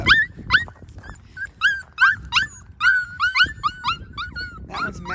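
A schnauzer puppy howls and whimpers close by, giving a string of about a dozen high, rising yelping cries in an uneven rhythm over faint background shuffling.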